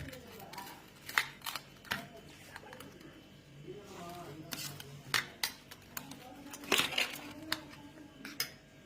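Eggs for an omelette are stirred and whisked in a bowl, with irregular clinking and scraping taps over several seconds while a person talks throughout.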